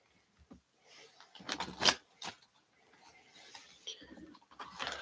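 Soft riffling and tapping of tarot cards being shuffled, in short uneven bursts with quiet breathy sounds in between.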